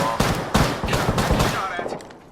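Rapid automatic gunfire in the Apex Legends battle royale game, a dense close burst of shots that runs continuously and fades near the end, with some game voice mixed in.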